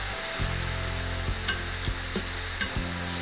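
Bacon frying on a steel plancha gives a steady hiss close by, punctuated by several sharp metallic scrapes and taps from a utensil at irregular intervals.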